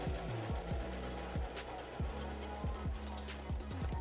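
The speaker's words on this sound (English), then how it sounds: "So our sewing machine is giving us big stitches" A domestic sewing machine runs a row of long gathering stitches through fabric, its needle thumping in a quick, steady mechanical rhythm, close and fairly quiet.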